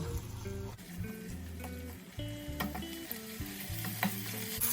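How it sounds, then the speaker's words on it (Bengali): A chilli fish mixture fries in a pan, with a continuous close sizzle and crackle broken by scraping stirring strokes and faint clinks. "এবার ভালো করে ভেজে নেব"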